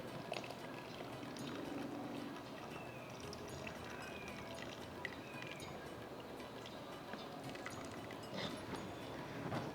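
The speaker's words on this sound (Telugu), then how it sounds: "చింతకాయలు కాలుతున్నాయి." Raw tamarinds cooking in a pot for Malabar spinach and tamarind dal: a faint, continuous bubbling simmer with soft crackles, steady and low throughout.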